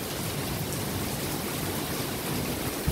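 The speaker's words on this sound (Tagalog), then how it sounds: "Narinig ko ng umulan" Heavy rain falling steadily outdoors during a flash-flooding downpour, a dense, loud, unbroken hiss of water across the whole stretch with no voices.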